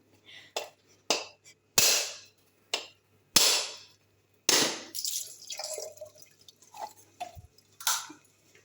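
Whole coconut struck to crack it open: a series of about six loud, sharp, separate knocks spaced irregularly, followed by softer cracking, tapping and trickling sounds up close.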